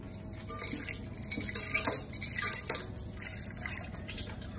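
Ice cold water poured into all-purpose flour for tempura batter, a soft close splashing and trickling into a bowl with a few brighter splashes midway, steady and fairly quiet.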